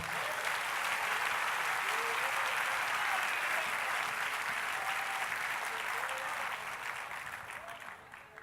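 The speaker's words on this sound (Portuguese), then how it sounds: "Aplauda o Senhor, aplauda o Senhor." A church congregation applauds in steady, dense clapping that holds strong for about seven seconds before tapering off, with faint voices mixed in underneath.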